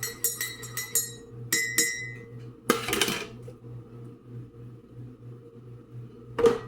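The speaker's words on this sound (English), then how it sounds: "let me just stir my coffee." A spoon stirs coffee in a cup with a quick series of bright, close clinks, then a short scraping rattle and one final knock against the cup.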